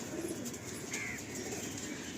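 A male loft pigeon coos softly while being handled and shown, faint and partly buried under steady background noise.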